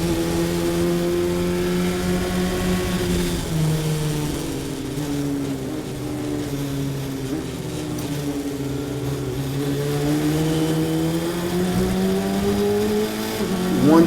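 A race car runs a hot lap at VIR in a VDCA FFCS afternoon race. The engine drones steadily throughout, its pitch rising and falling through the gears and corners at a moderate distance, and nobody speaks.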